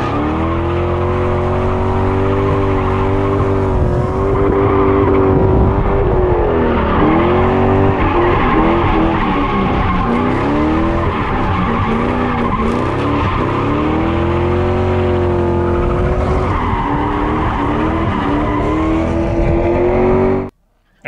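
SN95 Ford Mustang drift car tires squealing loudly through long drifting slides, rising and falling with the engine revving, a sustained screech close by.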